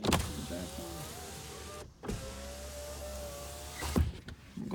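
Electric power window motor on a 2010 Ford Focus running up and down in steady whirring strokes, close and loud, with brief pauses between runs and no talking.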